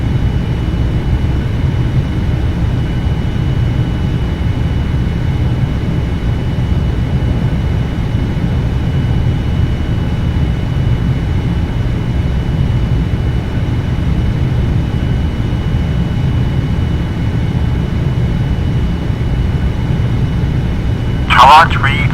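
An Air France airliner taking off from runway 20 in the Prepar3D v4 flight simulator, a loud, steady engine roar that holds for over twenty seconds, with a short sharp click right at the end.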